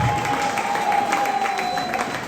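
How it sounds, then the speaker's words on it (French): An audience at a comedy show applauding a married couple, a dense wash of clapping from a crowd that holds steady through the short stretch. "Je vous prie d'applaudir pour 50 ans, 100 ans de mariage à ce beau couple"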